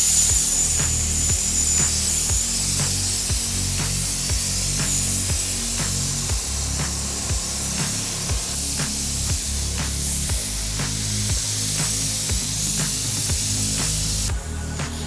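Spray gun applying a light coat of paint to a rebuilt 1989 square body crew cab truck bed, heard as a steady, close, continuous hiss with a regular rhythmic thumping from equipment beneath, no talk.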